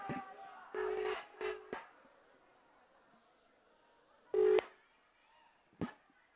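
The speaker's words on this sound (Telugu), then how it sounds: "అరే ఒక్క నిమిషం రా, రింగ్ అవుతుంది." A phone call rings out on the line in short, steady electronic tone bursts, a few spaced apart with quiet gaps and soft clicks between them.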